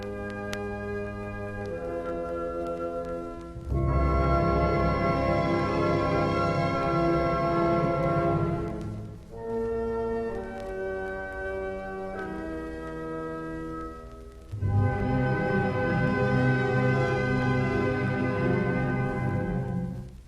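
An orchestra plays a slow, broad theme from a Brahms symphony in sustained chords, swelling in loud sections separated by quieter passages.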